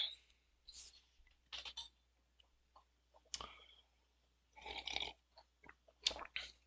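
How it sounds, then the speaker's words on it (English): A dog in Disco Elysium chewing on a bone: quiet, irregular clicking and crunching bites in scattered clusters, close but faint over near silence. "He's just chewing on his bone, being a good dog."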